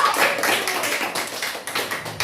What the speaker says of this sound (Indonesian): tepuk tangan untuk pertanyaan Tasya